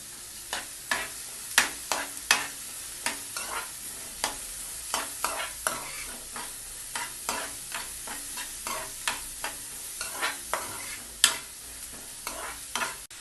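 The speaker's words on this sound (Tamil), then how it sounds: "கட் பண்ணி வச்ச 2 பெரிய வெங்காயம் அதையும் போட்டு நல்லா வதக்கணும்" Chopped onions sautéing in a pan for spicy egg masala, a soft steady sizzle punctuated by regular spoon scrapes and taps against the pan, close and fairly quiet, with no talk.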